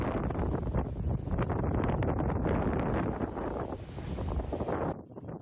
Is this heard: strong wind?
yes